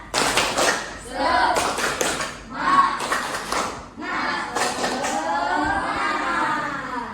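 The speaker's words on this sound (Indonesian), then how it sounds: "Tepuk semangat." A classroom group claps in a rhythmic patterned chant, bursts of claps alternating with voices, loud and close.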